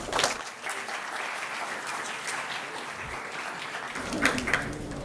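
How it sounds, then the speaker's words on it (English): Students in a BBA honors program audience clap together, a dense, even round of applause held for several seconds at moderate distance, swelling slightly near the end. "So maybe you can give yourselves a clap"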